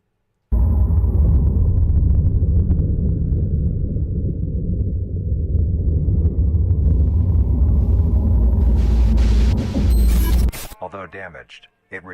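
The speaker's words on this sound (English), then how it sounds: "lightning coming down" Lightning strike in an analog horror piece, a deep sustained thunder rumble that roars loud and steady for about ten seconds before cutting off abruptly into sharp crackling.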